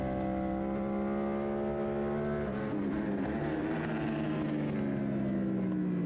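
High-revving racing motorcycle engines roar steadily, their pitch shifting as the bikes sweep past nearby, one note sliding lower midway through.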